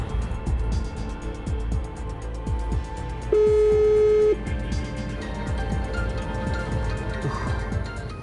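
A single steady electronic telephone ringing tone sounds for about a second, standing out over a cluttered background of clicks and low rumble; no voices.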